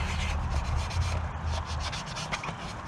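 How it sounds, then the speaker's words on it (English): Cotton ball soaked in rubbing alcohol rubbed over the fog light trim area of a Honda Goldwing motorcycle, a steady close scratchy wiping with repeated strokes over a low background rumble. "rubbing alcohol works just fine. And you'll use that to clean this area"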